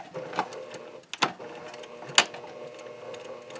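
A sewing machine stitching binding onto a quilt, with a few bursts of mechanical clatter and sharp clicks over a low steady hum, close and alone.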